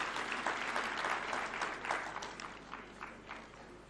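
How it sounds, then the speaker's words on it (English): Audience applause at a devolution conference as a governor comes up to speak, a sustained wash of clapping from a large crowd, moderately loud and slowly tapering off. "Let's give him a clap as he's coming."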